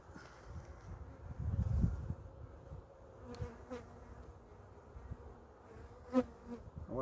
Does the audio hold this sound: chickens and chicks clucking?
no